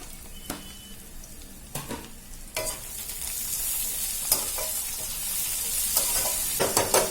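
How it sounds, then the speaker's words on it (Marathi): Onions sizzle and crackle steadily in a hot pan, with intermittent scraping and clinking as a utensil stirs them. "असा कांदा चांगला ना, असा ब्राऊन होईपर्यंत मस्त भाजायचा"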